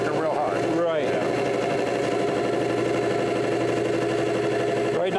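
An electric motor drives an oil friction test rig, running under load with a continuous mechanical whir and hum while a person talks over it almost the whole time.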